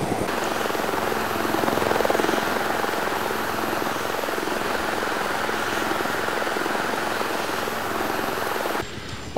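A helicopter in the video game DayZ thrums steadily and loudly, its rotor drone holding even for several seconds before cutting off abruptly at the end.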